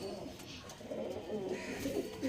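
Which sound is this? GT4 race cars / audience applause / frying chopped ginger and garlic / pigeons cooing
pigeons cooing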